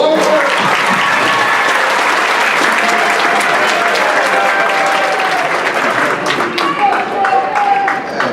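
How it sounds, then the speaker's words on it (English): A school audience at a Black History celebration assembly applauds in a dense, loud, continuous burst of clapping that fills the room, with faint crowd voices mixed in. "Can I get a round of applause for Madam C.J. Walker?"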